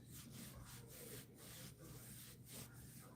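Steady rubbing of swollen arm joints by hand, a continuous dry friction sound repeating in slow strokes, close and moderately loud with no talking.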